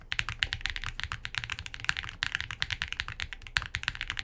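Steady, fast typing on an Iqunix Tilly 60 mechanical keyboard with plate foam and PE foam, muted, slightly deep clacks in an uneven rhythm, close up and alone.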